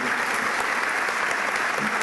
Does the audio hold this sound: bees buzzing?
no